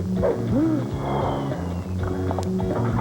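A dog barks and whines in a comedy movie trailer, with short, close yelps over a steady bed of music and background sound.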